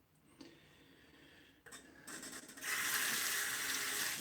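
A bathroom tap runs water for wetting a beard before a shave, starting as a soft trickle and then swelling into a loud, steady gush close by, with a few clicks and knocks from the fixtures.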